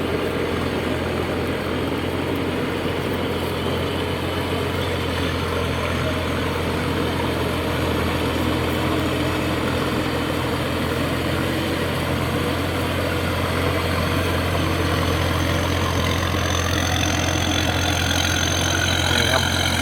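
A 320-horsepower Hino 21C diesel engine on a tractor with a rotary tiller churns straw into a paddy field, running at a smooth, steady low idle as a continuous drone with no breaks.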